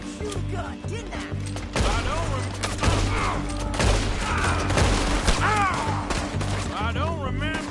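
Rapid gunfire in a video game, a dense run of sharp shots over steady low background hum, continuing almost without pause throughout.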